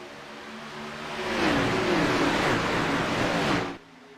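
Stock race cars at Daytona in a racing video game accelerate under green flag, engines swelling from a steady drone into a loud, rising, layered roar as the pack passes close, then cutting off abruptly.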